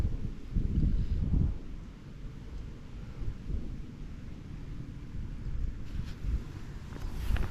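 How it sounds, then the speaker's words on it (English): Gusty wind buffets the microphone on the bank of the River Thames, low rumbling blasts rising and easing irregularly with no voices. "Just wish it wasn't so windy."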